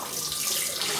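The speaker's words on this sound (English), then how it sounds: "It's rinsing out the razor." A RazoRock Hawk safety razor is rinsed under a running tap, giving a steady close hiss of flowing water into a sink.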